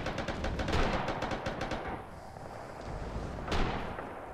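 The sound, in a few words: mortar fire from a video game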